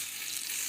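Onions drop into hot oil in a pan, giving a brief, bright, hissing sizzle that stays even throughout, with no talk.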